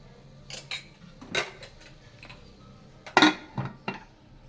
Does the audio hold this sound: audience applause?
no